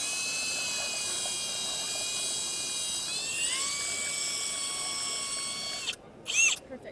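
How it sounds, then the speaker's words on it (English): Power drill mixing pigment into Jesmonite, a steady high-pitched whine that holds and then shifts pitch partway through before cutting off, followed by a few short bursts near the end. "And then I am going to use my drill"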